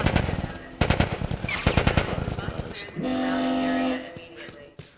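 Rapid bursts of gunfire in The Last of Us video game ring out close and loud in several volleys, followed by a steady mechanical drone, with shouting voices mixed in.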